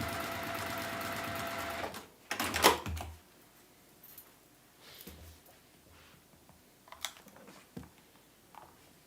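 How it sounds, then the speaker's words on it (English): A sewing machine stitching a Tilda snowman quilt block whirs steadily up close for about two seconds, then gives a short burst before falling quiet, leaving faint clicks and fabric handling. "So this is the side that has the most bits, so I'm sewing from that side."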